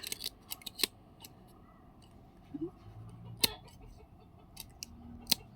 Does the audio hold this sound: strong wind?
no